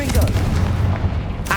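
A Confringo fire spell bursts with a loud, deep booming blast in Hogwarts Legacy, a heavy rumbling impact filling the short moment up close.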